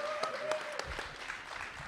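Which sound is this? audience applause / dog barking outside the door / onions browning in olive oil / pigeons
audience applause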